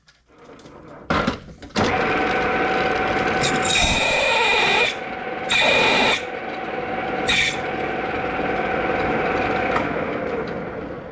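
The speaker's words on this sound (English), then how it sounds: "finally found a drill bit that'll go through" A power drill grinds steadily through thick metal plate, a harsh continuous whine with a few sharp squealing bursts and brief pauses.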